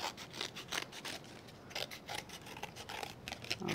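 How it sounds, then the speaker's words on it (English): Scissors trim paper for a handmade card with a soft series of repeated snips and rasping cuts, close and quiet, with no talking. "I'll use my scissors to trim that"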